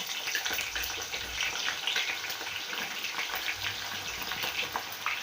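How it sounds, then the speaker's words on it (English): Onions frying in hot cooking oil in a pan, a steady crackling sizzle with scattered pops throughout, close and moderately loud, with no voices over it. "we are going to fry our onions till they're golden brown"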